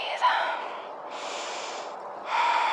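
Heavy, audible breaths during a yoga trapeze strength flow: a long drawn exhale, a pause, then another strong breath, close and breathy, with a short sniff at the start.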